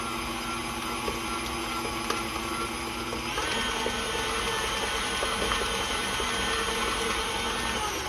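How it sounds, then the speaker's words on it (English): Electric mixer creaming lemonade pie filling made with evaporated milk, a loud continuous motor whir that shifts to a higher, busier pitch partway through, running steadily close up with no talking. "I need to cream this together very good"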